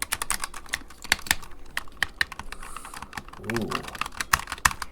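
Typing on a Razer Huntsman Tournament Edition keyboard: rapid, crisp key clacks in an irregular close-up burst, with a brief voice exclamation partway through.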